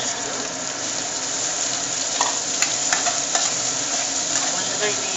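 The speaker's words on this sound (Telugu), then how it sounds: "ముందుగా ఇది అంతా కూడా ఫ్రై చేసేసుకోవాలన్నమాట ఫ్రెండ్స్." Raw prawns and drumsticks fry in hot oil with onions for a prawn and drumstick curry, giving a steady, close sizzle throughout with a few sharper crackles and spatula scrapes near the middle.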